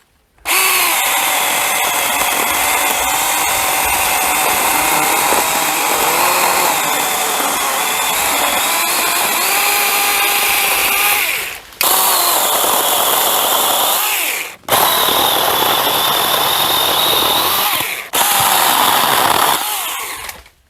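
A loud, high-pitched cheap chainsaw engine whines steadily, revving through sustained cuts of orchard branches with brief dips where the blade pauses between passes.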